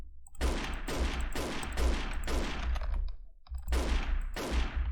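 Rapid bursts of automatic gunfire in the online shooter Wolfteam, several loud sustained volleys with a short pause in the middle, close and dense with no talk over them.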